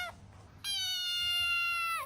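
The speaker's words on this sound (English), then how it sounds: "Spicy feral kitties." Feral cat giving one long, loud, drawn-out meow after a brief softer cry, close by and alone with no talk.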